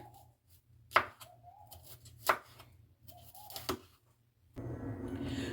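Knife chopping broccoli on a cutting board, three distinct knocks about a second apart with soft scraping between, ending in a rush of noise.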